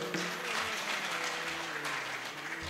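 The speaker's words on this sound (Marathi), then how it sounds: "टाळी वाजवा एकदा जोरदार." An audience at a Marathi kirtan gathering claps together in a steady burst of applause, moderately distant and sustained over a few seconds.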